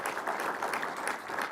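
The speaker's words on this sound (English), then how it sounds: "I would like to ask for a nice round of applause for Scott and his entire team" A crowd applauds steadily at a motorsports team event, a dense, even clapping that sounds close and continues throughout.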